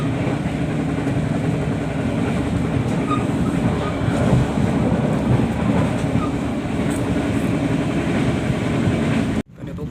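Heard from on board the KA Tegal Bahari train as it runs straight through Cikampek station, a constant loud rumble of wheels and carriage that cuts off abruptly at the very end.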